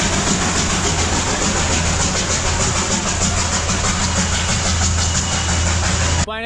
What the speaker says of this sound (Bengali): দার্জিলিংয়ের টয় ট্রেন,